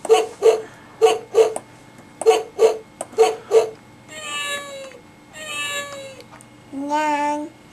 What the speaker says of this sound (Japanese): にゃーんだね。